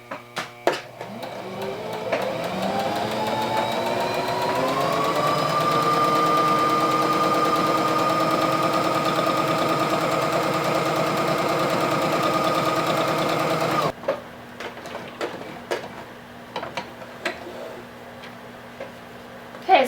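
A sewing machine runs a long straight seam down the middle of two joined fabric pieces, its motor winding up to a steady hum for about fourteen seconds, then stopping, followed by scattered clicks and handling noises.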